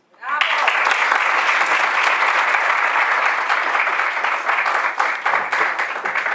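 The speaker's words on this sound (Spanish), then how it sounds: "y eso merece un aplauso." Sustained applause from an audience at an academic closing and awards ceremony, a dense, even wash of many hands clapping that starts abruptly and holds steady, thinning slightly toward the end.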